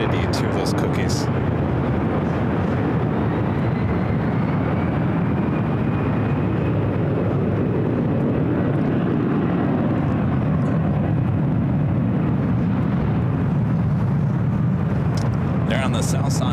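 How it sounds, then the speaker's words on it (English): A China Airlines Airbus A350 takes off from runway 25 right at LAX, a loud, sustained jet roar heard from a distance that swells and then slowly fades. "There on the south side, the China Airlines carbon fiber Airbus A350 taking off 25 right."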